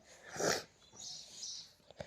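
A dog close by gives faint snorting, sniffing breaths, one louder huff followed by softer exhales and a short snort at the end, in a quiet room.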